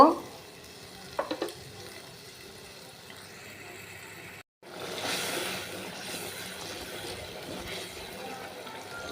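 Bagara shutki, a dried fish, fries in a clay pot with a low, steady sizzle and occasional stirring clatter. The sound drops out briefly midway and then resumes slightly louder.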